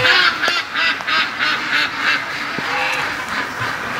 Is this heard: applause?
no